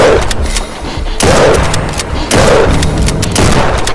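Gunshots fired while hunting, three loud booming blasts about a second apart, each with a sharp crack and rolling echo outdoors.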